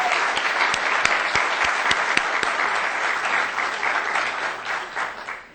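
Sustained audience applause at a craft art event, dense clapping from a crowd with a few sharper near claps, steady throughout and tapering slightly at the end.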